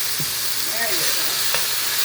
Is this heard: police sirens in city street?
no